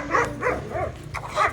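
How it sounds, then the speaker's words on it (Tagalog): A dog gives several short, sharp barks in quick succession, fairly close, over a low background hum. "Dito na aso."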